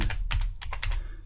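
A short run of about eight crisp keystrokes on a computer keyboard, close and clear, typing into a search box in client-tracking software.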